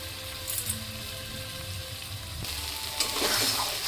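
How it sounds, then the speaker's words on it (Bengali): Rice being fried with spices in a pan while making vegetable khichuri gives a steady, close sizzle, with occasional scraping stirs and a brighter burst of frying near the end. "আমি এরকম চালটা মশলার সাথে ভেজে নিই"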